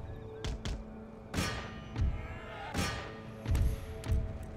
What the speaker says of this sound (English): Cease the artillery fire.